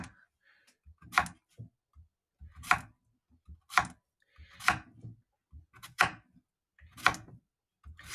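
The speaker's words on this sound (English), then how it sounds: "So I'm just going to cut these up." A knife chops on a cutting board in a slow, steady rhythm, about seven distinct cuts with brief pauses between them, close and clear.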